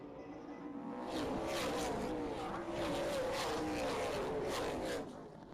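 Race car engines roar together as a field gets underway on an oval track at the start of a 125-lap stock car race, a dense, continuous snarling drone with rising and falling pitch from a distance.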